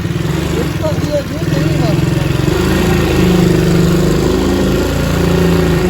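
Motorcycle ridden slowly on a rough, broken road, its engine a steady loud putter throughout with wind rumble, while someone talks over it.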